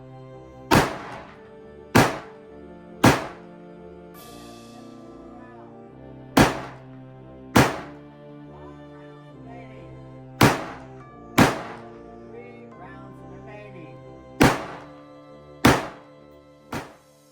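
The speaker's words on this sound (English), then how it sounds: "move the selector to fire and begin firing" Rifle gunfire at a shooting range: about eleven loud, sharp reports spaced one to two seconds apart, each with a ringing decay, close and with no talk between shots.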